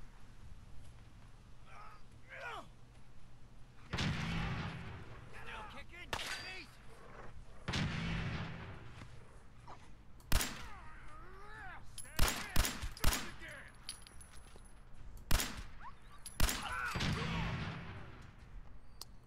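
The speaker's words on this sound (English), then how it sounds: "Who's shooting me?" Gunfire in Fallout 4, scattered sharp shots and bursts of rapid fire with booming reports, loud and irregular, mixed with game effects and a voice talking in places.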